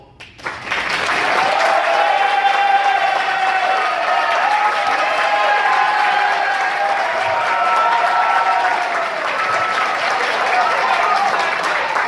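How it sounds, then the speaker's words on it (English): Loud, sustained applause from a large audience, rising quickly and continuing steadily with dense clapping and some crowd cheering throughout. "give yourselves a round of applause."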